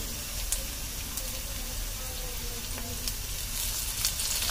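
Curry leaves sizzle and crackle steadily in hot oil, a dense continuous frying hiss with small pops, close and fairly loud throughout, no talking.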